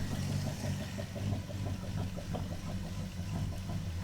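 Car engine idling steadily up close, with a fast, even ticking from a worn valve lifter running through the low rumble for the whole stretch.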